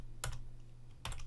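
Two separate clicks on a computer keyboard while entering a formula in an Excel spreadsheet, close and quiet against a low hum.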